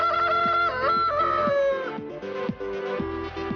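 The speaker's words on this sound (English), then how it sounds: "That one's a chicken." A chicken on a Yorkshire farm, heard as a loud, close drawn-out crow or call with harmonic tones, followed by a series of shorter clucking sounds.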